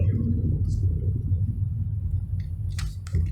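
A 2022 BMW 118i Sport engine running in manual mode, a steady low rumbling drone heard from inside the cabin, with a few faint clicks and rustles near the end.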